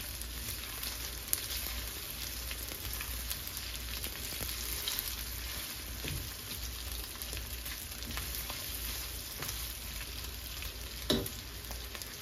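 Potatoes frying in a pan for a potato dal with egg, a steady, dense sizzle and crackle running throughout with a couple of small clinks, no talking.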